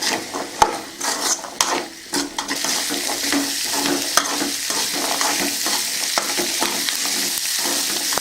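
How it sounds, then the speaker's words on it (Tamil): Boiled chickpeas with onion are stirred in a frying pan, the spoon clacking and scraping in uneven strokes over a soft, steady sizzle, with a few louder knocks early on. "கொஞ்ச நேரம் நல்லா கலக்கி விடுங்க"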